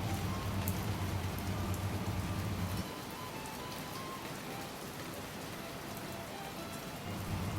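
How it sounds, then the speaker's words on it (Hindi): Heavy rain pours steadily outdoors, a dense continuous hiss of drops on surfaces, with a lower rumbling layer that drops away partway through and returns near the end. "अच्छी खासी बारिश हो रही थी।"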